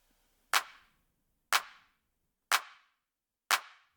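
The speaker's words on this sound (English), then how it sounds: "Then a clap also with a reverb on it." Four evenly spaced clap hits, one per second, each followed by a short, dark reverb tail that fades quickly into silence, isolated in a percussion mix.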